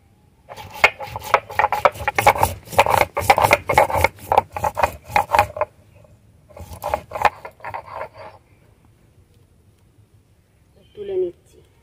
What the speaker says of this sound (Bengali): গরম মশলাটাও বেটে নিচ্ছি।